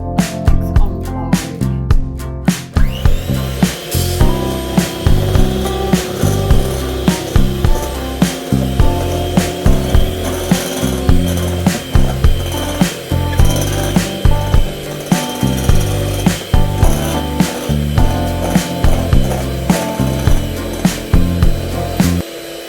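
An electric mixer beats cake batter on low speed, its motor whirring steadily at close range with a repeating rhythmic pulse throughout and no talk.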